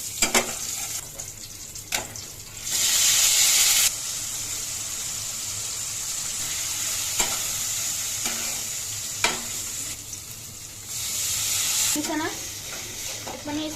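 Tomato frying in a hot pan outdoors, with a steady sizzle and repeated scraping stirs close by, and a louder burst of hiss partway through.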